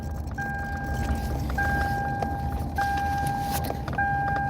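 A BMW car cruises along with a constant low road rumble and tyre noise, plus a repeating electronic chime pulsing at regular intervals inside the cabin, no speech.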